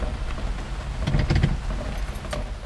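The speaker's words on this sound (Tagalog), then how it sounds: "Lakas ng ulan" Steady rain hissing on surfaces, a dense continuous wash with a brief clatter of sharper drops midway.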